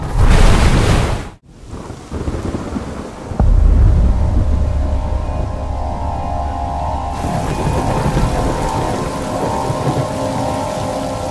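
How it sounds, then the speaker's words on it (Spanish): Heavy thunderstorm with torrential rain building toward a lake flood: a loud burst of downpour, a sudden gap, then a deep rumbling thunder roll over steady dense rainfall that continues throughout, with no voices. "Se está gestando una tormenta torrencial"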